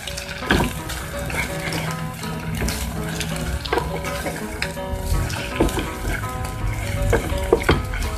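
Salted eggs being beaten and scrambled in a pan with a cooking noodle soup, giving scraping stirs and a steady sizzle of frying with clinking utensil hits, fairly close and continuous with no talk.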